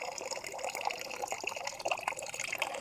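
Water from an old roadside spring runs and trickles steadily, a close, continuous babbling with small splashes.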